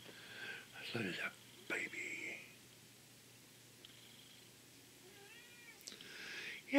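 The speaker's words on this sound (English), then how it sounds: "That's my cat" A house cat meows a few times, fairly faint and close by, between quiet whispered talk and rustling indoors.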